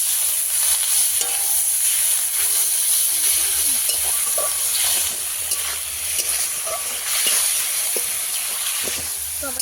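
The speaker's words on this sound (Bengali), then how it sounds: "জল দিয়ে দেবো" In a rural-style home kitchen, water goes into a hot pan of spicy curry made with freshly caught pond fish, raising a loud, steady hiss and sizzle with stirring scrapes and clinks throughout.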